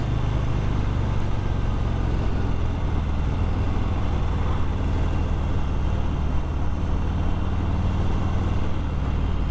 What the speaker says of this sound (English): we're just going to give it a bit of throttle here and see the power of the bike come out again